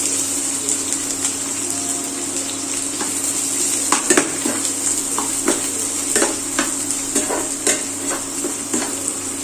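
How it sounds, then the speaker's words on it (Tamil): Onions, about a cupful, fry in a pan with spices while being stirred, giving a steady close sizzle with scattered scraping and clinking utensil taps, no talk. "1 கப் அளவு வெங்காயம் சேர்த்துக்கிறேன்"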